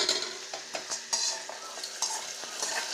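A spoon scrapes and stirs repeatedly through thick ghee ven pongal in a pot, with rhythmic clinks against the metal and faint sizzling, heard close and without speech.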